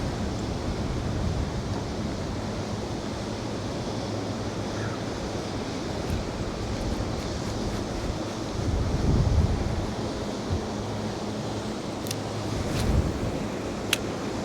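Wind blowing in off a lake makes a steady, rushing roar with low buffeting against the microphone, swelling in a couple of stronger gusts.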